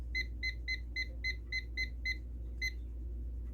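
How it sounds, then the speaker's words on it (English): A kitchen timer set for bread dough gives a rapid run of about eight even electronic beeps, then one more after a short pause, fairly close and clear over a low steady room hum. "So I'll set my timer"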